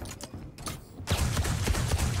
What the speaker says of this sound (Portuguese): Tá só fazendo barulho esse canhão aqui.